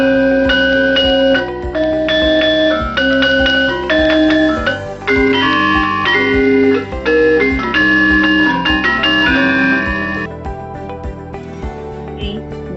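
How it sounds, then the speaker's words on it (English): A gamelan gender, a bronze xylophone with resonance chambers beneath, plays a steady run of bright, ringing metallic notes that overlap and sustain, close and fairly loud throughout, with no voices. "Tender, bronze xylophone with resonance chambers beneath."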